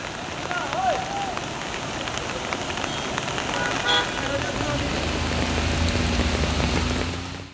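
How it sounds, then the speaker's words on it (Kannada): Steady heavy monsoon rain hisses throughout in Chikkamagaluru's hill country, with disrupted road traffic rumbling louder toward the end and a brief tonal squeal near the start. "ಈ ಜೋರಾದ ಮಳೆಯಿಂದ ಮಳೆಯ ಆರ್ಭಟಕ್ಕೆ ಸದ್ಯಕ್ಕೆ ಸಂಚಾರ ಕೂಡ ಅಸ್ತವ್ಯಸ್ತವಾಗಿದೆ"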